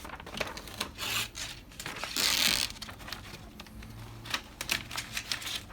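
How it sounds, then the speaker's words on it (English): Tape peeled off a stencil pattern on lettering work, giving close rasping, crinkling strips of sound in several pulls, one longer tearing stretch in the middle. "now we take this tape off of this part of the"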